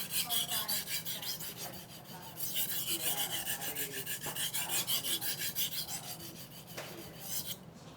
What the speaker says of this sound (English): I'm keeping the knife in contact with the stone the entire time